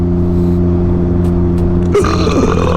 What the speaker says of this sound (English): Oh, first burp of the year